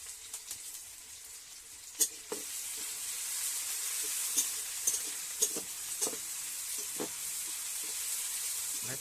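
Chopped onions fry in hot oil for a desi chicken and potato curry, a steady close sizzle broken by scattered pops and spatters.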